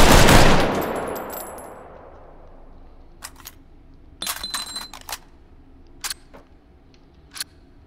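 Carbine gunfire in the VR shooting game H3VR, one loud close shot ringing out and decaying, followed by several sharp metallic clicks and clacks of weapon handling.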